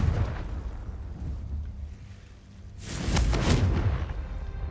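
A Confringo blasting spell explodes in Hogwarts Legacy, a sudden loud burst that erupts after a quieter stretch and rumbles on with crackling debris, close and full-bodied, with no talking.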